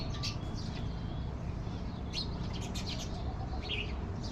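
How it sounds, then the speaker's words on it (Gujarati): Sparrows chirp in short scattered bursts near a house where birds come to feed, their calls sitting faintly above a steady low background rumble. "આ જો ચકલી, ચકલો છે."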